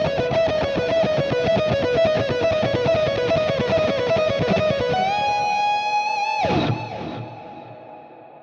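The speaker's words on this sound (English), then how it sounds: "We are at our quarter note digital stereo delay for our lead tone." Electric guitar lead tone from a Fractal FM3/FM9/Axe-FX III preset for a song, with a fast picked repeating line washed in a wet quarter-note digital stereo delay, then a held bend and a sliding note that trail into echoing repeats.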